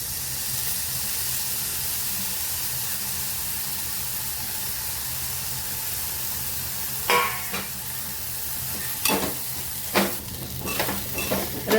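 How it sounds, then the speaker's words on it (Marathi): Grated sweet potato fries in ghee with a steady, close sizzle, and a few scraping stirs of the spoon break in during the last seconds, with no talking. "तुपावरती छान असं परतून घ्यायचं आहे"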